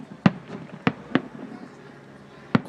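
Small fireworks go off some distance to the side, four sharp, separate bangs at uneven intervals over a quiet outdoor background.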